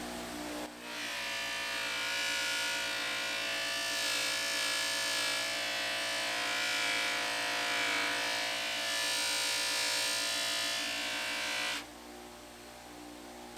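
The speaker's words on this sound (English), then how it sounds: "You want to buff in the same direction." A motor-driven buffing wheel polishes a metal part with a steady, loud, high whine for about eleven seconds, then the pitch drops as the part eases off the wheel.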